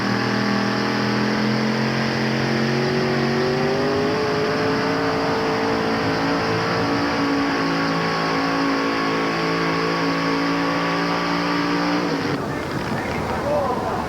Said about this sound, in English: His vehicle is powered by a not-so-mini 355 Chevy.